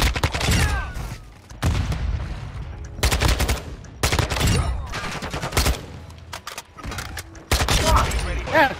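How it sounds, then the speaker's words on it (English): Shotgun fire in a shooter video game, sounding as a run of loud, punchy blasts in quick clusters with mechanical clicks in between, over excited voices talking. "Fire shotgun."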